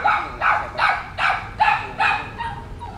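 A dog barks repeatedly, about six or seven sharp barks in a steady rhythm, fairly close and loud, with no talking.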